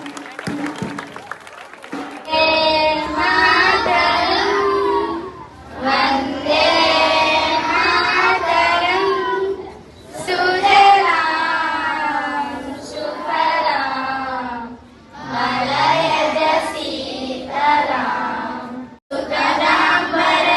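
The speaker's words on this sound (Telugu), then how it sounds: "చప్పట్లు" Sustained applause from a crowd at a school gathering, with clapping that swells and dips in several long waves, mixed with voices.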